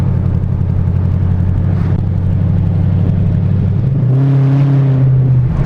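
A 2014 Paxton supercharged automatic Mustang GT accelerates, its engine a loud, close, steady drone that steps up in pitch as it revs harder toward the end.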